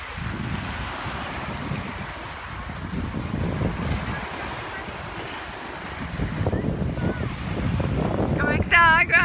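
Cold wind blows at a sea shore in Abel Tasman National Park, a continuous rushing roar with microphone buffeting and surf, growing louder toward the end, with faint voices.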